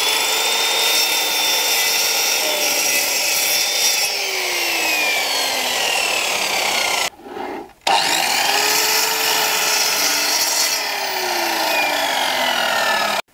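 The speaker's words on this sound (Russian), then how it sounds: "И третий инструмент, который у нас остается, это торцовочная пила." A miter saw cross-cuts fiber cement siding with a loud, steady, gritty whine, breaking off briefly midway before a second continuous cut.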